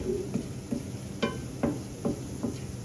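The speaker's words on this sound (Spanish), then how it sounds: "estamos friendo cebolla con el ajicito, el palillo y el ají." Chopped onion fries in a pan with ají pepper and palillo while being prepared for papa a la huancaína. A steady low sizzle runs underneath, broken by rhythmic scraping strokes of stirring about every half second.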